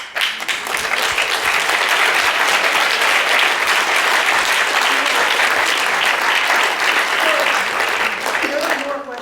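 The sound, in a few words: audience clapping after a lecture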